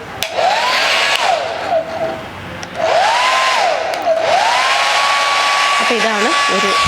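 A handheld hair dryer runs on its first speed setting. It gives a loud, close, steady airflow roar with a whining tone that swells and dips as it is moved or switched, cutting out briefly once before resuming.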